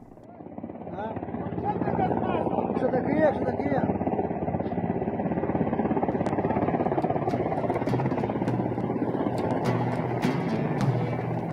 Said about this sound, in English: A few days later, another helicopter arrived to drop off supplies for the Taliban forces